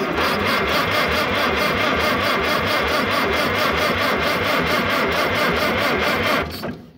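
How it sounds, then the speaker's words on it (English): An old tractor engine cranks on the starter after a dose of ether, a loud, rapid, rhythmic chugging that churns steadily for several seconds without catching, then cuts off abruptly near the end. "we're going to give it some ether and see if it'll go"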